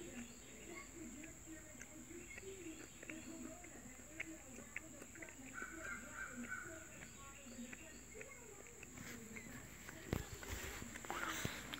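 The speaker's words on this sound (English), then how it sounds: "The birds are starting to actually chirp up." Birds chirp and call at a distance in Sylva, North Carolina during the 2017 solar eclipse, with crickets and insects trilling steadily underneath and faint footsteps or movement nearby.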